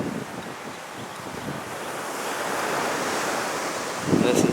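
Ocean waves wash onto a tropical beach on the North Shore of Oahu, a steady loud roar of surf mixed with gusting wind buffeting the microphone, swelling slightly toward the end.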